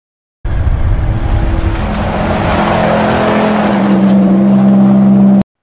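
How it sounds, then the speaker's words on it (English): A Ferrari sports car engine roars up as it approaches, growing louder and higher, then holds a strong steady drone before cutting off abruptly. "You can hear the car approaching, the sound gets louder as it comes near"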